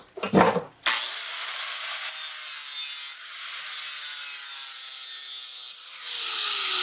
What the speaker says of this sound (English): All I'm doing is deburring it.